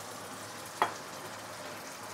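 Shaoxing wine hits a hot pan of braised fish, giving one sudden sharp sizzle burst that quickly fades back into a quiet background hiss.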